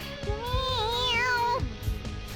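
The cat character in the video game Persona 5 Royal gives one drawn-out, rising and falling meow over steady in-game background sound.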